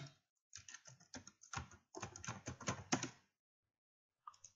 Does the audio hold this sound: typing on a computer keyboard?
yes